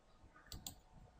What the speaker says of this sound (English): So let's click this point,